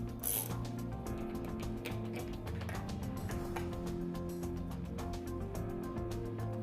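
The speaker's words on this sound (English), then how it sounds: "We'll just take our 1/2-inch wrench and we'll remove that last diaphragm." A 1/2-inch ratchet wrench removes a diaphragm from a Graco Husky 307 pump, producing a steady rapid ratcheting clicking and whirring that is loud, close and continuous, with no other sounds over it.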